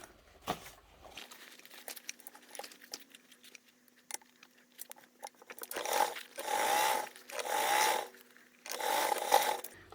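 A sewing machine stitches the last long edge of a tote and crossbody bag, running in four steady bursts after quieter handling noises, fairly close and loud.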